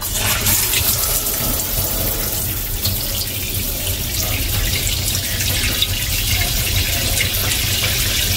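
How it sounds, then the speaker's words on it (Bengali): Tap water runs steadily into a sink while vegetables are washed, a loud, close, continuous rushing splash with no pauses and no voices. "তো ওইগুলো হচ্ছে এখন ওয়াশ করবো।"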